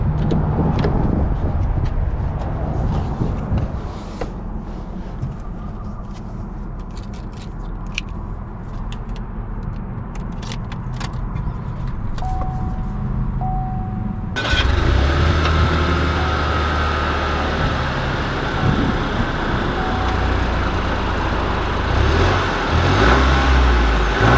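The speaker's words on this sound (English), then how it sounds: "let's take this Trailblazer out and see how she drives" A 2021 Chevrolet Trailblazer SUV engine hums steadily as it drives, first as a muffled cabin drone and then as a louder, rougher road-and-engine roar for the rest of the stretch.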